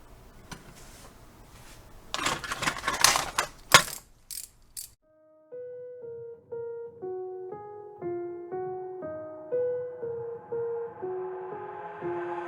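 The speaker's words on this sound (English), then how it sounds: "Now I'll grab a ratchet." A ratchet wrench working on a power steering pulley gives a few short, close bursts of rapid clicking, then falls quiet as a gentle music melody takes over.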